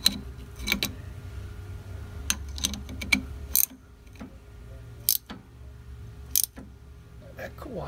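A wrench tightens a fitting on a 1987 Wanderlodge PT40 bus in a garage, giving sharp, irregular metallic clicks and ticks over a low hum.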